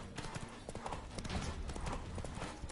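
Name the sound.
horse hooves in a video game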